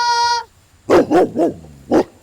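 A Polish Tatra sheepdog, a white flock guardian, gives a high whine and then four loud, close barks, three in quick succession and one after a short pause.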